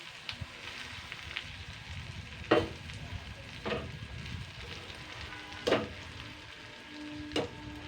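Drumstick leaves fry in a pan, a soft continuous sizzle with a few sharp scraping stirs of a spatula spaced several seconds apart.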